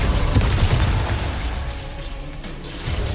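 Glacius ice spell from a Hogwarts Legacy duel, a loud crackling burst with icy shattering texture that fades into a lingering rumble, amid other spell effects.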